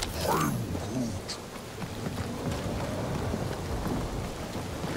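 Rain pours steadily in Marvel's Guardians of the Galaxy video game, a dense hiss with a low thunder rumble rolling beneath, loud and continuous throughout, with a brief voice-like sweep near the start.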